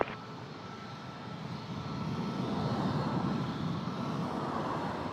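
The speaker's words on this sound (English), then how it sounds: "Jet Gonna be a Learjet 40." A Learjet 40 business jet near Toronto Pearson airport gives a steady, broad engine roar that swells slightly and holds across the whole stretch, fairly distant, with no talk over it.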